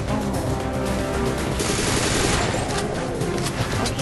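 Continuous rapid gunfire in the video game Black Fire, a dense, loud, unbroken rattle of automatic shots filling the whole stretch with no pauses.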